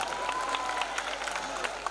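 Applause from an audience at a comedy event, a steady wash of clapping heard at moderate distance with crowd murmur mixed in, continuous for the whole stretch.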